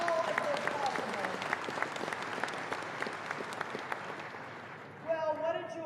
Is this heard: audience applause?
yes